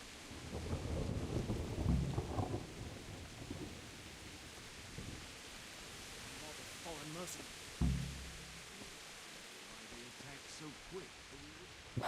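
Thunderstorm in Kingdom Come: Deliverance, with steady rain hiss throughout, low rumbling thunder early on and a sharp lightning crack near the end, while someone talks over it.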